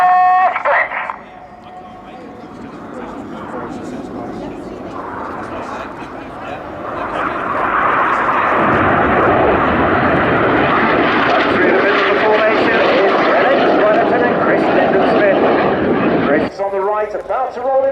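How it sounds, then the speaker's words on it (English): Red Arrows aerobatic jets at an air display roar overhead, the engine noise swelling from distant to loud and sustained as the formation passes, with a commentator talking over it. "Pulling up with the red, white and blue smoke is Red 9, Flight Lieutenant Dan Lowes."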